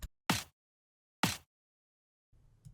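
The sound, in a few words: layered snare drum sample with side-channel high shelf EQ off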